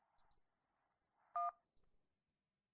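A phone keypad sends a few short DTMF tones in quick pairs and a longer single beep, quiet and alone over a faint, steady high-pitched whine on the line.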